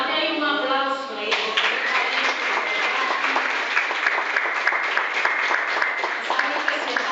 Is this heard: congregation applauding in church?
yes